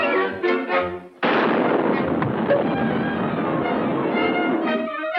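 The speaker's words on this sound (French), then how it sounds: "C'est de la dynamite. Laisse pas tomber." A cartoon dynamite blast from a 1990 animated short goes off suddenly after a few brief voiced sounds, then a long, loud, crackling rumble that holds steady for several seconds.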